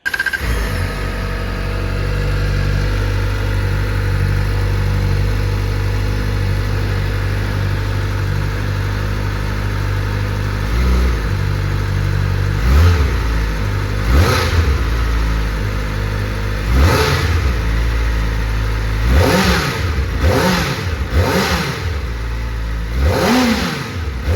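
A Kawasaki Ninja ZX-4RR 400cc motorcycle engine idles with a steady rumble, then is revved in a series of sharp, repeated throttle blips, loud and close.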